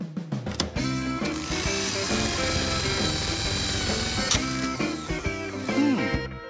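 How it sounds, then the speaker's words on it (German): A cartoon drill boring into a hard concrete wall, a loud continuous mechanical whirring with rising and falling stutters and clanks throughout, with no talking. "Siehst du? Wir werden bohren müssen."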